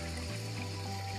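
Cold spring water runs from the mountain at a drinking spring in southern Corfu, a steady close trickle and gurgle with no voices.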